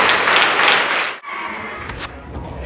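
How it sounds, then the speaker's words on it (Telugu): Students in a motivation class clap together, a dense, loud burst of applause that breaks off briefly and then resumes more thinly with scattered claps. "ప్రతి ఒక్కరు కూడా చప్పట్లు కొట్టాలనుకుంటున్నాను నేను."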